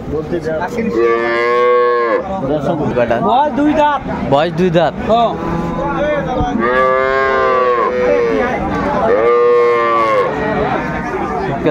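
Cows and calves at a cattle market in Chattogram, where dairy cows and calves are sold, give loud, drawn-out moos several times over, with people talking and haggling throughout.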